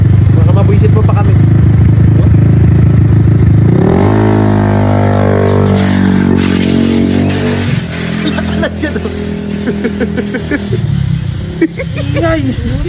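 A motorcycle with a broken carburetor and a loud muffler revs and sputters up close, its rough engine note rising and falling under excited shouting voices.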